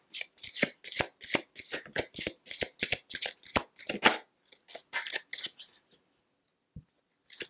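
A deck of cards is shuffled for a card reading, a fast run of crisp riffling bursts close up. A few scattered soft taps follow before it goes quiet.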